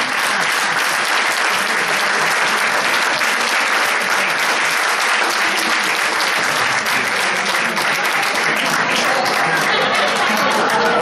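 A variety show audience at the Paral·lel applauds loudly and continuously, a dense, sustained clapping from a full crowd throughout.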